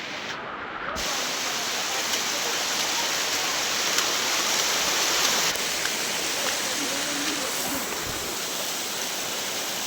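Constant broadband rush of flowing water at Anjaneri, steady and fairly loud, like a stream or small cascade nearby.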